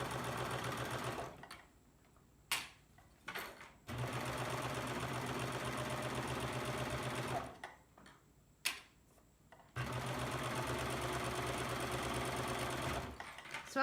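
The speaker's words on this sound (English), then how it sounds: "So I'll continue to sew up this side and the other side." A Baby Lock serger stitches a lace inset seam with a lace applicator foot, running loud and steady in three long bursts separated by pauses with faint handling clicks.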